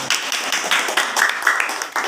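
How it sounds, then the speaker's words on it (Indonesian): Classroom applause for a group presentation, a short burst of many hands clapping together at close range, steady and fairly loud for about two seconds. "beri tepuk tangan."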